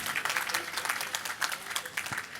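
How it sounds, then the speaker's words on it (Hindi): Audience applause at a Jain religious discourse, a steady patter of many hands clapping for a few seconds with no talk over it. "अगर मेरे उत्तर से सहमत हो तो एक बार तालियां बजा दो।"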